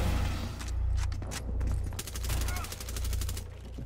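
Rapid gunfire in Rainbow Six Siege, a burst of several sharp shots clustered in the middle over a loud, droning game background, with a voice faintly present.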